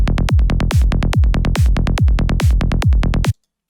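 A psytrance drum loop of punchy kicks with Sytrus-made snares and bright hi-hats, driving in a fast steady rhythm, loud and close, then cutting off abruptly into silence.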